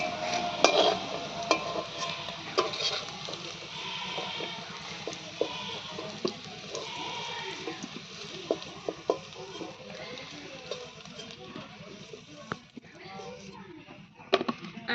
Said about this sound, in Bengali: আলু কিন্তু আমি সিদ্ধ করি নিইনি, এমনি তেলের উপরে ভেজে নিলাম একটু ভালো করে